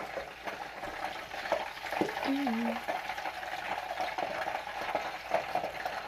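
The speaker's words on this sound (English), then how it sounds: "I recommend a dish like this when it comes to deep frying" Steady crackling sizzle of Chinese steak deep frying in hot oil, with a brief tonal squeak and some stirring clatter partway through.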